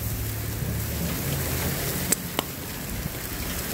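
Steady rain pours over an outdoor grill during a cookout, forming a dense continuous hiss, with a couple of sharp drip or tap sounds near the end.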